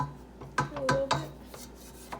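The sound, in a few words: scraping the cupcake batter mixing bowl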